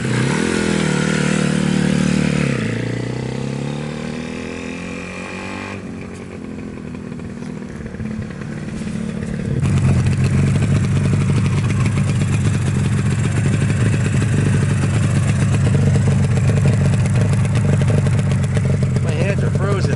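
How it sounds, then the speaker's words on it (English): A 1976 Yamaha RD400 motorcycle engine idles roughly, dips, then revs up into a loud, steady running drone, with people talking faintly over it. "I get to ride this RD400, and Buddy gets to bark at me about it."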